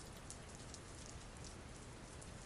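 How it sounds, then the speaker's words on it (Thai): Steady rain falls outside in a mobile and PC romance game, a dense, even hiss of drops drumming on surfaces that holds constant throughout with no voices. "มีเพียงแค่เสียงฝนจากข้างนอกเท่านั้นที่ ที่มีเสียงออกมานะครับ"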